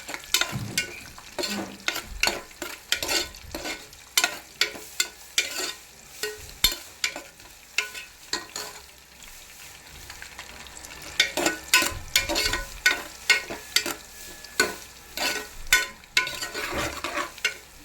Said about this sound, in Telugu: జీడిపప్పు బాగా వేగాలి బ్రౌన్ కలర్లో.